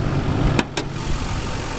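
A Chevrolet K2500 crew cab 4WD diesel pickup idles steadily just after starting, heard up close. Its even engine rumble has two brief sharp transients near the start.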